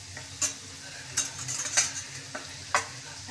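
Ground turmeric, cumin, coriander and chilli powder with salt frying in oil in a pan for a Bengali egg masala curry: a soft sizzle under several bright spoon scrapes and clinks against the pan, no speech.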